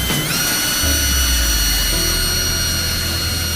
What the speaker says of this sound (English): I'm gonna be using my Milwaukee drill and this little mixing paint bit